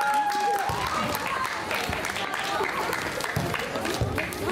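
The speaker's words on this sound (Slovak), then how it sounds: "zaslúžia si obrovský potlesk" Audience applause at a stage show, a dense continuous clapping from a crowd lasting the whole clip, with some cheering and chatter mixed in.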